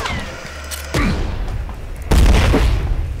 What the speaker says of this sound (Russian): Ядра прилетели в 10 раз больше, чем сама пушка.